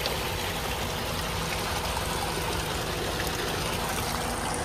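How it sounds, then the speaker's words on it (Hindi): Cold mountain spring water pours and gushes steadily while a container is filled outdoors in the Himachal hills, a loud, continuous, close rushing flow with no voices. "और अब तुम्हारा भाई भर रहा है यहाँ से पानी, ये पहाड़ों से ठंडा ठंडा पानी आता है"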